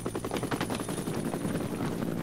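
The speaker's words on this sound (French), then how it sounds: "J'entends un hélicoptère." Helicopter rotor chop in the stealth action game Splinter Cell Conviction, a steady thudding beat under dense game noise with rattling bursts that may be gunfire, loud and continuous throughout.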